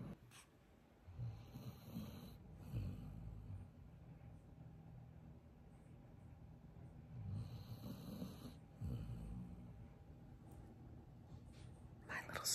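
A dog snores in slow, recurring low rasping breaths while resting in a vehicle, under quiet background noise, with faint whispered talk nearby.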